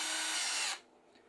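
A forward-and-reverse power drill runs forward while boring holes for a TT120 loading ramp, a loud steady whine lasting under a second before cutting off abruptly into quiet room tone.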